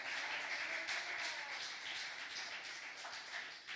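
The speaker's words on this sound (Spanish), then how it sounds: "Denle un aplauso fuerte al Señor." A church congregation applauds in a sustained, soft wash of many hands clapping, fairly distant and even, fading slightly toward the end.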